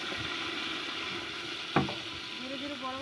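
Potatoes and meat frying in hot oil with cumin and bay leaf, a steady close sizzle with a sharp clatter of stirring midway, then faint tonal sounds near the end.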